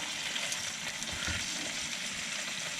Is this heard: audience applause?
no